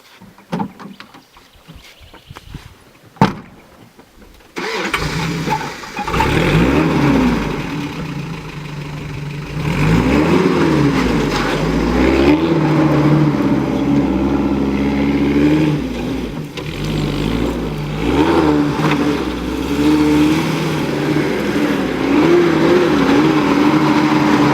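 A Toyota Bundera 4WD at an off-road park starts up after a few faint knocks, then its engine idles loud and close and rises through several revving swells that hold steady for about twenty seconds.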